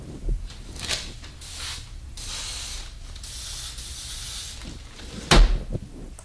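Several short hissing bursts of Pam baking spray from an aerosol can, separated by pauses, with a sharp knock near the end.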